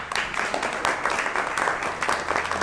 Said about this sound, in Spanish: para quien también pedimos un fuerte aplauso